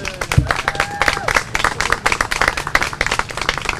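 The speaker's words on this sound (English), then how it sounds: "Why don't we give a round of applause for" A round of applause at a National Bike to Work Day gathering in Tampa, many hands clapping in a steady, moderately loud patter with a brief voice or whistle-like tone early on.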